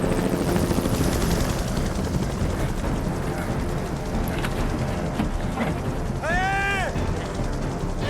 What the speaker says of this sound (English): The helicopter's come back.